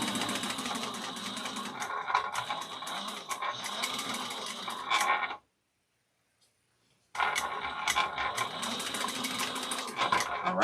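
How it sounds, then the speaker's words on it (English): A sewing machine chain-stitching fabric pieces for a mini box tote runs loud and steady, breaking for a brief silent pause before resuming at the same busy, continuous whir. "I'm just bringing my my fabric over so it's chain stitching. You're not having to cut threads"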